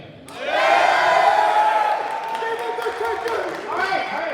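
A talent audition audience cheers and whoops loudly as a crowd, swelling quickly and holding steady, then easing slightly with more cheering rising near the end.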